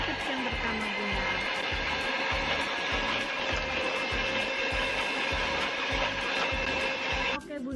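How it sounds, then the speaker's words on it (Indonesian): An electric mixer beats nastar cookie dough, a continuous loud whirring with a fast rhythmic clatter of beaters against the bowl that runs throughout and cuts off just before the end. "untuk nge-mixernya sudah cukup ya. Kita matikan mixernya"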